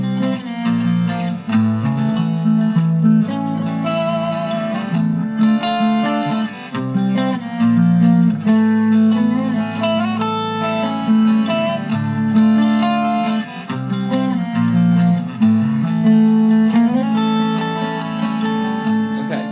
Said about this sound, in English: I was kind of fooling around with some double stops and taking 2 notes of those chord tones and playing them at the same time